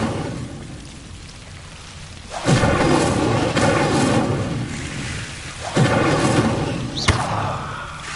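In the video game Hogwarts Legacy, the Incendio fire spell erupts in two loud, roaring whooshes of flame a few seconds apart, each starting with a sudden burst and fading off, the second capped by a sharp crack.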